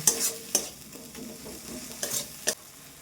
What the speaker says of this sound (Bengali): এখন দেবো সামান্য হলুদ এবার ভালো মতন মশলাটা আমি কষিয়ে নেব